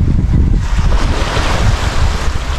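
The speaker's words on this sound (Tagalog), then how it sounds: "ingay ng dagat ha. Pakinggan niyo, pakinggan niyo." Sea surf rolling onto a rocky shore, a steady broadband wash with low rumbling swells and gusts of wind buffeting the microphone throughout.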